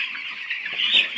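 Twelve-day-old chicks on a poultry farm cheep continuously in a dense, high-pitched chorus, many birds peeping at once from close by.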